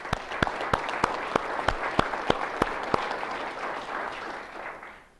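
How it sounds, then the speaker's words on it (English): A small group at a Dutchess County government address applauds with sharp, evenly spaced claps that soften and fade away after a few seconds. "you deserve a round of applause"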